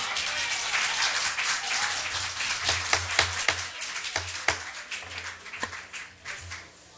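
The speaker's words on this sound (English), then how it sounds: "There will be no applauding during this meeting." A crowd at a town board meeting in Wareham claps and applauds, a dense patter of many hands that thins into scattered individual claps and fades.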